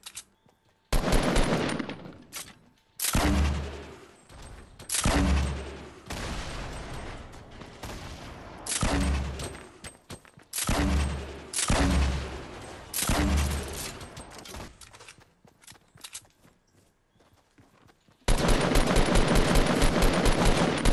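Rapid automatic gunfire from Fortnite Battle Royale comes in repeated loud bursts with short pauses between, ending in a sustained dense stretch of shooting.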